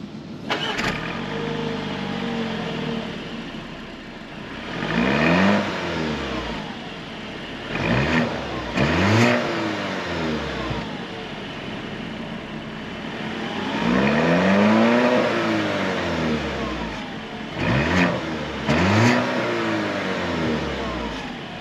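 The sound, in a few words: 2025 Audi Q7 4-cylinder engine on test drive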